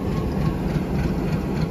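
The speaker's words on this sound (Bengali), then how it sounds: "এটা আসলো এই মাত্র এসে, আবার ইঞ্জিন ঘোরাই নিল" A train locomotive rumbles low and steady as it runs around to haul coaches at a Dhaka station, a continuous heavy engine drone with no speech over it.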